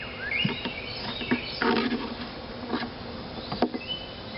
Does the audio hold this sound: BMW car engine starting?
no